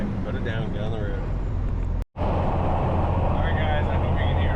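Steady wind roar buffets the inside of a moving truck cab, loud and continuous with low rumble, briefly cut by a short dropout midway; someone talks over it in places.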